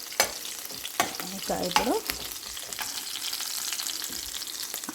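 Onions fry in a pan with a continuous close sizzle and a few scraping stirs, and a voice speaks briefly near the start.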